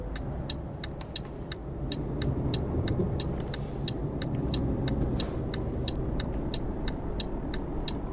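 A truck engine in Euro Truck Simulator 2 driving up into a parking lot, a steady low rumble that swells slightly as it climbs, with a regular ticking indicator clicking throughout.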